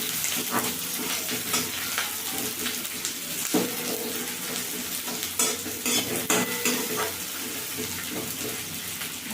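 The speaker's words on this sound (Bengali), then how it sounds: "ফোড়নটা হয়ে গেছে, পেঁয়াজ কুচি দিয়ে দিলাম।" Chopped onion fries in hot tempering oil for a Bengali snake bean (borboti) chochchori, a steady loud sizzle broken by repeated scrapes and clinks of a spatula stirring through the pan.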